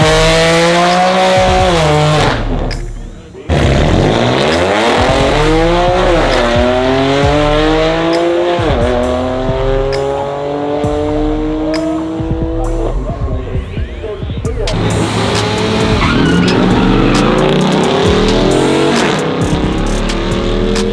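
A 700 hp Mercedes E63S AMG and a Dodge Hellcat on slicks drag race, with loud, close engines roaring throughout and pitch climbing and dropping through repeated gear shifts, with no talking.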